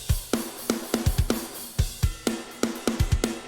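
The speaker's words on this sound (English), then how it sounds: "I end up running away from drums that sound like this." Programmed drums play a rigid, mechanical beat: punchy kicks and snare hits repeat at evenly spaced intervals with identical attacks, sounding robotic, for about three and a half seconds with no voice.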